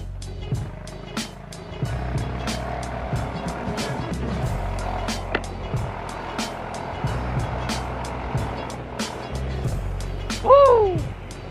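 Cars fill a busy city street near LBC Legarda, engines rumbling and passing by with bursts of clicks and ticks, then a sharp rising whine near the end, while people talk now and then.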